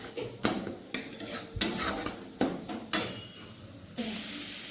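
Paneer cooks with paneer masala in a pan while a spoon stirs it, making repeated close metallic scrapes and clinks over a faint sizzle.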